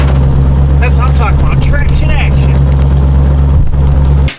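Truck wheels spinning on ice and hard-packed snow, a loud close engine roar with steady low drone and wavering whine, a voice briefly audible over it before it cuts off.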